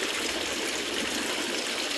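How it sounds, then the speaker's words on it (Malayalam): Water falls from a pipe in a home aquaponics system, making a continuous, close splashing trickle with an even level throughout and no voices. "അപ്പോൾ ഒരു സൈഡിൽ മാത്രമായിട്ട് വെള്ളം വീഴും"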